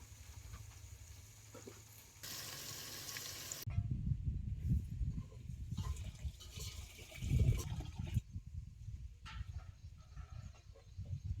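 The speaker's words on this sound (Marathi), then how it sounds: "आता हे तेलात सगळ्या भाज्या भाजतो" Mixed vegetables frying in oil in a pot for a village-style soya and paneer pulao, giving a low, uneven sizzle and bubbling that shifts and fades in places.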